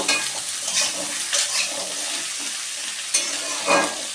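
Mixed vegetables and green chillies hit tempered oil and fry with a loud, continuous sizzle, a few stirring scrapes and clinks on top, close up and uninterrupted by speech.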